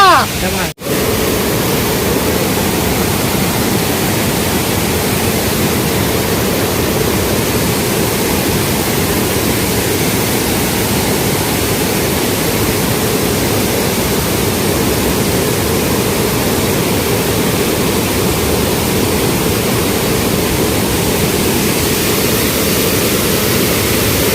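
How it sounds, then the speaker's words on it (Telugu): Kothapalli waterfall roaring as a dense, unbroken wash of falling water, loud and close, running steadily without change after a brief knock at the start. "ఫ్రెండ్స్ వాటర్ ఫాల్స్ దగ్గరకు వచ్చిన తర్వాత"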